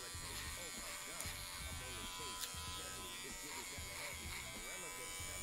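A buzzing electric hair clipper runs steadily through a home haircut, its hum close and continuous while people talk over it.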